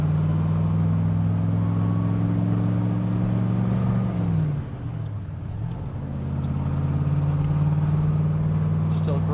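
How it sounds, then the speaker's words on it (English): Side exhaust pipes of a 1966 Chevrolet Corvette 427 coupe drone steadily from inside the moving car, easing off briefly mid-run before swelling back to a strong, continuous roar. "You can hear those side pipes roar."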